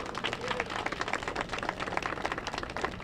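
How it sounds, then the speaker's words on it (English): A crowd applauds a woman mayor at an outdoor anniversary event for saving the cable cars, a steady, dense clatter of many hands clapping continuously throughout at moderate distance. "Let's have a round of applause"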